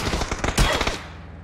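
Rapid bursts of automatic gunfire in the battle royale game PUBG, close and loud, with a heavy report near the middle before the shots fade into a ringing tail.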